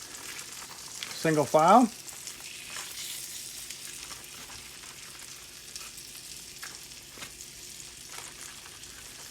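Scallops searing in a hot frying pan with butter, oil and flour, a soft steady sizzle running throughout, with a brief burst of voice near the start.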